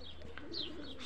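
A racing pigeon gives faint, soft coos over a low, steady background hum, with one or two light chirps in a short burst.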